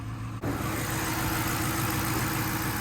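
A 2018 Dodge Charger's 5.7 liter V8 idles steadily and loudly nearby after a brief click, with a low even rumble and no talking.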